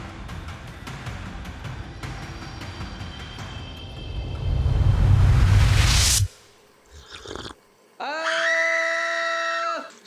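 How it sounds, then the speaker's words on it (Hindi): A child's scream in a horror film rises to a loud, sustained shriek that ends abruptly, followed by a brief quiet rustle and then a long wailing tonal cry. "वो चिल्ला क्यों रहा था?"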